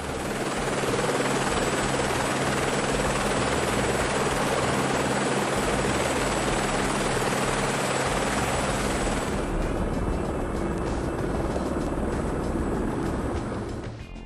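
A medical transport helicopter runs steadily during a hot load at a hospital, its loud continuous rotor and engine roar filling the scene without pause, close by and unbroken for the whole stretch.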